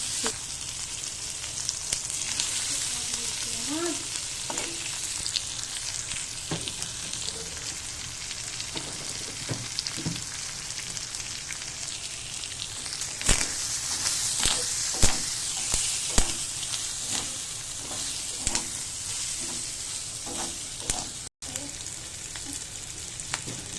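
Baim fish eggs frying in a pan make a steady, close sizzle, broken by scraping and tapping as they are stirred, with occasional sharper clicks.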